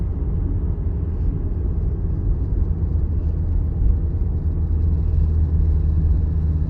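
Interior of a car during a driving lesson as it steers around a parked car: a steady loud low engine and road rumble with no distinct events.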